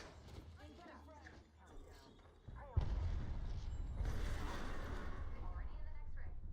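A frag grenade detonates with a loud, sudden boom in a video game, followed by a sustained rumbling roar, with a voice talking just before the blast.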